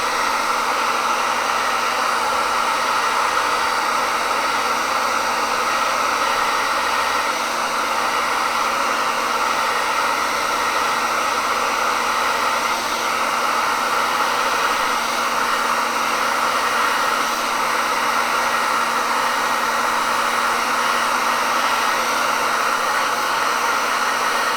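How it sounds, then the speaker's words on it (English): A hair dryer blows continuously at an even, loud pitch, a steady airy whoosh with a whine, running alone without interruption. "Go ahead and hit that with the hairdryer."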